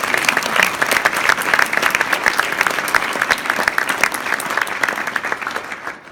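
Audience at an integrative medicine graduation ceremony applauding, a sustained crowd of many hands clapping for several seconds, evenly loud before tapering off at the end.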